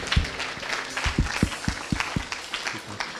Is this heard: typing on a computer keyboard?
no